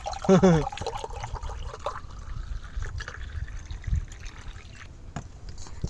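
Cold water pours into a glass for homemade lemon Sprite, a soft continuous trickle running under a brief burst of voice at the start and then carrying on alone.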